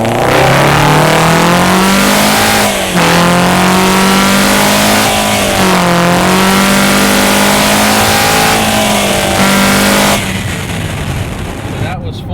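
A Toyota Corolla E210 2.0 with CVT and a cold air intake accelerating hard, loud engine drone rising in pitch through several stepped shifts, then easing off near the end.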